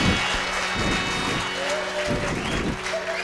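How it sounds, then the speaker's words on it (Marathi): An audience claps at a Marathi stand-up comedy show, bursts of applause rising and falling in waves over about three seconds, with a voice briefly heard among them. "वाजवा टाळ्या दमलो."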